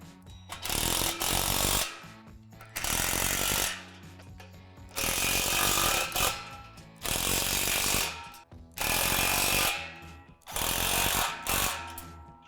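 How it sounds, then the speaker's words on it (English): A power tool tightens hardware on a Lifetime Double Adventure Tower playset, loud rapid ratcheting bursts of about two seconds each, repeated six times with short quiet gaps between, close and with no talking. "Now go ahead and tighten all the hardware."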